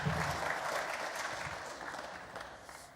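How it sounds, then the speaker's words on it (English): Scattered clapping from a small audience at a UFC 243 press conference, fairly faint and thin, starting a bit fuller and tapering off over a few seconds. "thanks to all 5 people that clapped"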